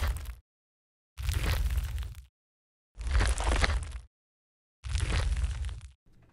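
Dead by Daylight-style interface sound effect, dark and ominous, low-passed to a dull lo-fi tone, playing as three separate noisy crunching bursts of about a second each with silent gaps between them.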